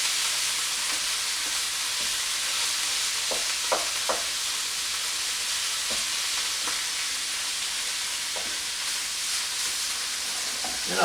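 Ground meat frying in a pan for shepherd's pie, a steady, even sizzle running throughout, broken by scattered soft taps and scrapes as the meat is stirred and broken up.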